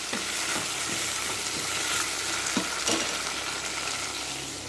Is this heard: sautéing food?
yes